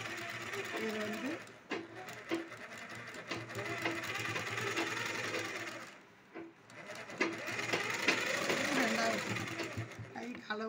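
A sewing machine stitches a 40-inch blouse in long close runs with brief pauses, and a voice talks at times over the whirring.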